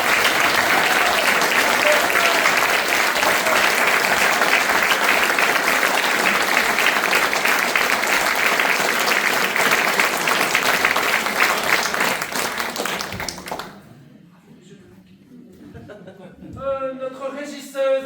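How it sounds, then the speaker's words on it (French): A theatre audience gives a long, loud ovation for the performer cast as Monsieur Trac, dense sustained clapping that stops abruptly, leaving quiet room sound and a little talk near the end. "un immense applaudissement."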